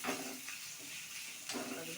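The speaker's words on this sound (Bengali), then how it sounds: "পেঁয়াজ কুচিগুলি দিয়ে এবার ভালো করে ভাজবো, একটু লাল করবো" Chopped onions fry in a pan with a steady, moderate sizzle and hiss, swelling briefly near the start and again toward the end as they are stirred.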